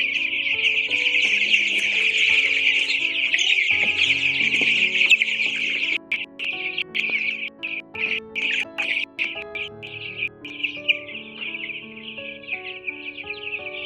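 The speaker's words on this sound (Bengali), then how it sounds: "আমাদের মুরগির বাচ্চাগুলো আমাদের সুস্থ আছে এখন।" A dense chorus of high, shrill chirping comes from a flock of about 400 chicken chicks on a poultry farm, continuous at first and then breaking into choppy overlapping peeps, close and fairly loud.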